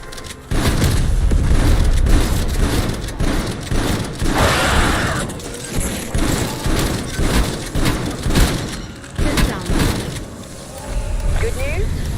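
Death Machine minigun blasting in Call of Duty Cold War Zombies, loud dense bursts of rapid fire with booming hits that keep going for several seconds, pausing briefly between strings, while someone talks over the shooting.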